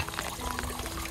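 Water pours in a short, steady gush into a container until it fills, heard up close and on its own.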